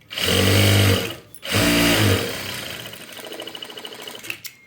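Domestic sewing machine stitching the lining of a katori blouse front panel: two loud motor runs separated by a short pause, then a lighter, rapid ticking of the needle close by.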